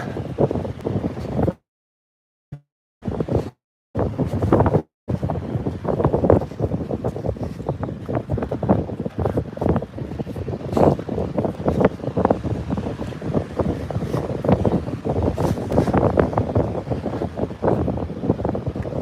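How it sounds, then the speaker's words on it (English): Strong coastal wind buffeting the microphone near the shore, a loud continuous roar with rapid gust fluctuations and a few brief dropouts near the start, no talk. "Wind is blowing."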